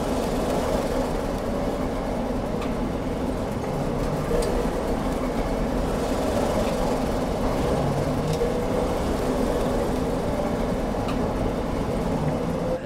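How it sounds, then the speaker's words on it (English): Compressed air start of the Dornier X flying boat engine in Microsoft Flight Simulator, a steady broadband rushing and cranking drone that holds at an even level throughout with no catch or firing. "Gotta love those compressed air starts."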